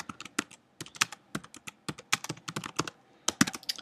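Fingers type on a computer keyboard in quick, irregular bursts of crisp clicks and taps, close and clear, with short pauses between runs of keystrokes.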